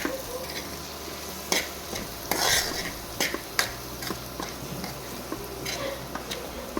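Coriander powder and turmeric sautéed in a pan for Puneri misal: a soft sizzle under repeated sharp clinks and scrapes of a spoon stirring against the pan, with no talking.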